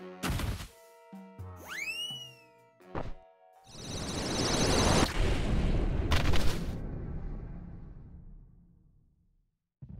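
Explosions and impact effects from the Monster Hunter video game in a Touhou MMD setting: a brief boing-like tone, then loud sharp hits and a long booming, crashing blast that fades to silence, with no talk.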